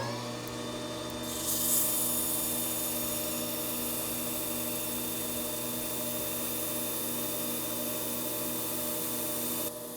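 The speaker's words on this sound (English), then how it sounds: "I'll just take a piece of sandpaper and spin it in the lathe" Sandpaper held against a Winchester Model 190 rifle part spinning in a lathe, giving a steady, continuous rasping hiss over the lathe's constant motor hum, with no talk.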